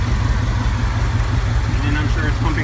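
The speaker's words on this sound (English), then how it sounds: "It's idling. It's got the AC full blast." A Subaru 2.5L engine fitted in a 1991 VW Vanagon idles steadily with the air conditioning running full blast, a loud constant low rumble with a continuous hiss of blowing air over it.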